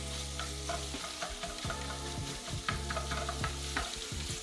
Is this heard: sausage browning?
yes